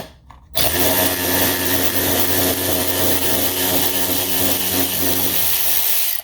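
A DeWalt DCF504 12V cordless ratchet drives a lag bolt into a wood knot, starting abruptly and running as a loud, steady, close motor whine with grinding load for about six seconds before cutting off.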